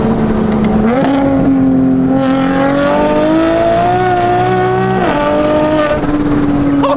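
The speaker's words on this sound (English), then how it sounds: "Since this is completely straight through, this is the truest sound you can get out of this motor and turbo setup." A BMW M4 with a turbocharged engine and straight-through exhaust revs and accelerates, a loud, raspy drone climbing in pitch, dipping briefly at about five seconds, then pulling again, close and alone.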